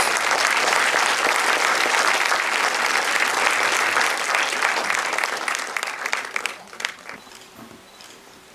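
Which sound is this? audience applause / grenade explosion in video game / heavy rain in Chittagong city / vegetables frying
audience applause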